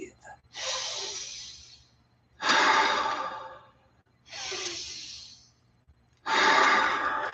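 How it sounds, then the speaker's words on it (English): Four slow, deep breaths during a guided meditation alternate long inhales and exhales, close and airy, with a quiet low hum underneath and pauses between them. "Breathe."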